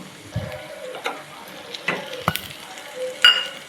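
Chopped tomatoes land on softened fried onions in a hot pan for paneer bhurji, raising a moderate sizzle broken by scraping stir strokes and clinks, close and without talk.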